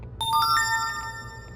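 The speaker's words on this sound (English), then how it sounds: "Stop beeping at me like you're a real phone." A phone emulator in the Day R Survival game chiming like a real phone: a short bright ringtone of stacked tones sounding alone, ringing out and fading over about a second.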